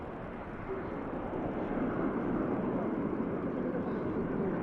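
An EasyJet airliner rotates and climbs away from Manchester Airport bound for Malaga, a steady broadband jet roar at moderate distance that holds level and builds slightly over the few seconds.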